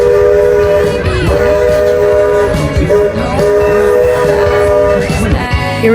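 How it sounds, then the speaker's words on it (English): A Walt Disney World steam train's whistle blows in long, loud sustained tones over the rumble and clatter of the moving train, sounding repeatedly through the ride. "the whistle was sounded many times this ride"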